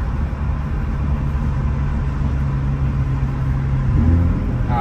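Tuned Hyundai Elantra N engine with a Mustang GT alongside in a race, a loud continuous rumbling drone that holds steady throughout and lifts slightly in pitch and loudness near the end.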